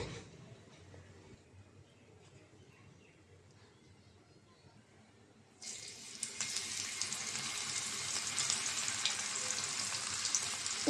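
Fish sizzle loudly as they hit hot oil on a tawa. A quiet stretch gives way to a sudden burst of bright, crackling frying that keeps going close by.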